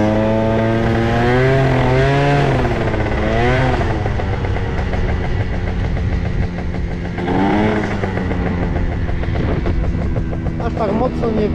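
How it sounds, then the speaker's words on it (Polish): An Italjet Dragster scooter engine revs up and down repeatedly, close and loud, its pitch rising and falling in a series of buzzy sweeps over a steady running drone. "bardzo lekki jest ten skuterek"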